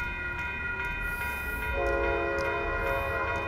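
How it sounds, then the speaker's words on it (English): Amtrak Capitol Corridor train #527, led by an F59PHI diesel locomotive, passing southbound at Fruitvale Ave: a loud, steady rail rumble with sustained tonal whine, growing stronger midway as the cars roll by close at hand. "we got another Capital Corridor train coming out"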